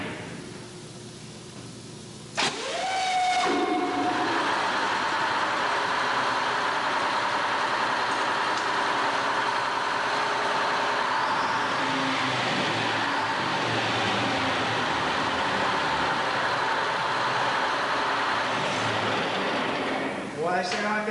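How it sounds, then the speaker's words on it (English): After a quiet start, a large ferry engine on the Lynchburg Ferry cranks and catches, then runs at a steady, loud drone with a constant low rumble that continues throughout. "I'm going to crank up one engine just to show you the noise that"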